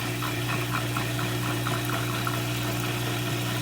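An aquarium water pump runs steadily in a newt paludarium, a constant loud hum with water churning and trickling throughout, unbroken and close.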